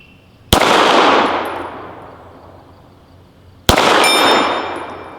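Two sharp, loud pistol shots from an STI competition handgun, about three seconds apart, each followed by a long ringing decay, with no talking.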